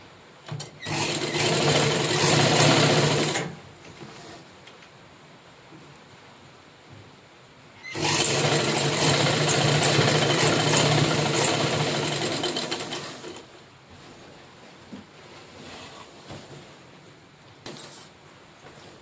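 A sewing machine stitches lining onto a long skirt, running in two long, steady, loud bursts separated by quieter pauses with no talking.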